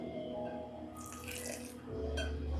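Water poured into cooking dough for an oxtail dish, a soft continuous splashing and trickling that swells in two short bursts against steady kitchen background noise.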